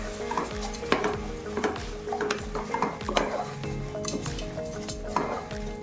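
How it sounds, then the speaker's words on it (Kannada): Rice being fried in a pan with green peas, cashews and curry leaves for tomato bath, with repeated close ladle scrapes and clinks against the pan over a light sizzle, no talking. "ಈಗ ಇದ್ರ ಜೊತೆ ಹಾಕಿ 1-2 ನಿಮಿಷ ಫ್ರೈ ಮಾಡೋಣ."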